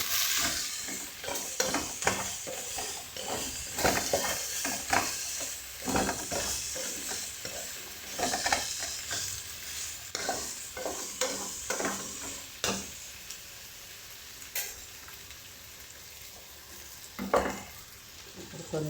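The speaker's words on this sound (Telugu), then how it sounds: "ఆలు వేసేసాను." Potatoes sizzle in a hot pan as they are stirred repeatedly, with rhythmic scraping strokes over a continuous frying hiss that eases off toward the end, close and clear.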